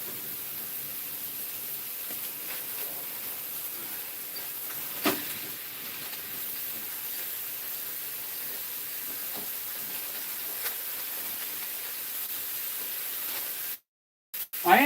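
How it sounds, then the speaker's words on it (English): Burger patties, three at once, sizzle on an outdoor barbecue grill as a steady broadband hiss with faint crackles and a few louder pops, continuous and fairly quiet before cutting out near the end. "That sizzle is awesome."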